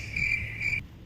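Shrill insect chirping on a hillside, two sustained buzzing trills close by in quick succession that cut off abruptly, with faint outdoor background and no talk.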